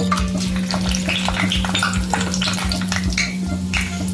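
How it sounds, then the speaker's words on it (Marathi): Whole spices sizzling in hot oil in a wok for a mutton gravy, a steady close crackle with scattered sharp pops and a constant low hum underneath. "तेल गरम झालंय, आता त्यामध्ये आपण खडे मसाले घालू।"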